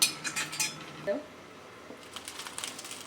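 Boiled noodles poured out of a metal pot: a brief clatter and scrape of the pot at the start, then a quieter wet rush with a few small knocks, close and short.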